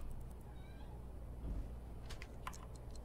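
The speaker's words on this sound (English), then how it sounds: "And the cat wants in," A cat meows to be let in, giving one drawn-out nasal cry near the start over a quiet background, followed by a few faint clicks and taps.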